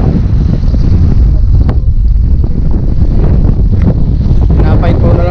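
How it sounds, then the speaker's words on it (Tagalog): Strong wind buffets the microphone at an outdoor fishing spot by the water outside Metro Manila, a steady loud roar with gusty swells throughout. "Nakakahangin, grabe."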